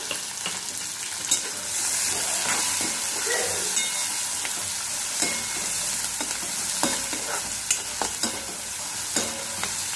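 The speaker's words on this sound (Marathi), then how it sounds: "त्याला पण लाल होईपर्यंत आपल्याला भाजून घ्यायचं आहे।" Two finely chopped medium onions fry in oil for chole masala, making a dense, continuous close sizzle punctuated by sharp spatula taps and scrapes throughout.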